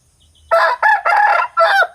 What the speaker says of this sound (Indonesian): pagi-pagi sekali ini ayam masih bersaut-sautan ya, ayam jantan